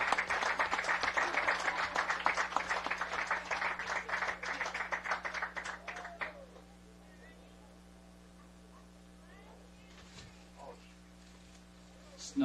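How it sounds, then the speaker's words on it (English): Crowd applause for the 2019 Hesston College baseball sophomores rolls steadily for about six seconds at a distance, then drops to quiet outdoor background with faint scattered sounds. "A big round of applause to our sophomores of our 2019 Hesston College Baseball"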